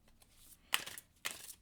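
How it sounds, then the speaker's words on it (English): A new deck of tarot cards being shuffled by hand, giving two short, crisp riffling bursts close by with quiet gaps between them, and no voices. "so these cards are a little bit hard to shuffle"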